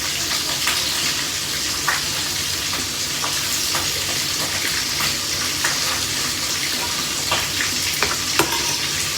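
Tamban fish frying in a pan, a continuous loud hiss and crackle with scattered sharp pops of spattering oil, heard up close and alone.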